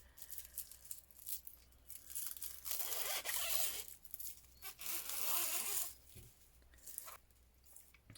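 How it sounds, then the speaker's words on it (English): Raffia pulled apart by hand into thinner strands for basket weaving, heard as two long, close, dry tearing rips separated by quieter rustling. "if you find the raffia you've got too thick, you can split it quite easily"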